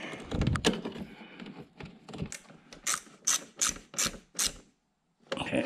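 A ratchet tightening aero kit fasteners on a C7 Corvette clicks in quick bursts and then in a series of evenly spaced, close, crisp strokes, stopping briefly before one more burst, with no talking.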